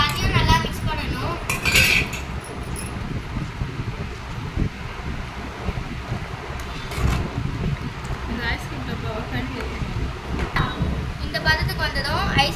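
Spoon clinks and scrapes against a glass while stirring a summer juice with cashews and almonds, before ice cream goes on top, over a steady background noise throughout.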